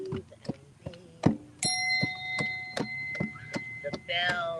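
A bell rings out at a full moon ceremony on sandy ground by the sea, one clear strike whose bright overtones hang and slowly fade, preceded by soft scattered taps and clicks with a faint voice nearby.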